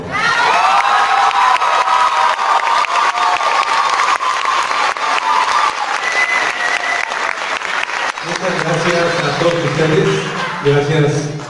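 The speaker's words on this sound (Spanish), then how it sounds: "Un aplauso para nuestra Adriana." Loud audience applause and cheering with children's shouts at a 2018 Casa del Arte school performance of Hairspray in Ciudad Victoria, sustained throughout, with high excited voices rising near the end.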